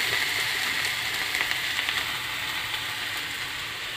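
Potatoes frying in oil in a pan for kudri alu posto, a steady close sizzle and crackle running evenly throughout with no talk.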